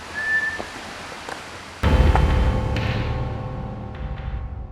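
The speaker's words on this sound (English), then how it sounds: "Is this a whistle response to last night's investigation?" During a ghost investigation replay, a thin, short whistle-like tone sounds once near the start over quiet background. A sudden louder wash of broadband noise with faint tonal hum follows and carries to the end.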